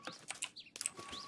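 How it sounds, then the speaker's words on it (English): Birds in the Minecraft Crazy Craft modpack, several quick chirps and tweets, faint and close together over about a second, with no talking. "It's a bird. Damn it, I need that bird."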